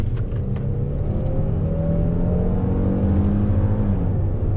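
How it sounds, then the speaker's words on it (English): A 2021 Kia Telluride Nightfall SUV engine revs up steadily under load, its pitch rising as the vehicle accelerates, heard from inside with a constant whirring drone. "Back on throttle, here we go."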